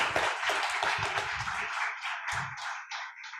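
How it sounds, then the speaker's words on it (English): A round of applause for the participants at a university Three Minute Thesis competition, a burst of many hands clapping that thins into a few scattered claps and fades out. "let's one more time give a round of applause to our participants for their presentations today"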